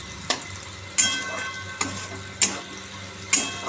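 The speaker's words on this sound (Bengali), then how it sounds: "একটু লাল করে ভেজে নিই" Onion, dried chilli and black cumin frying in a pan, with a constant sizzle broken by several sharp clicks of a spatula as it stirs, close up and without any talking.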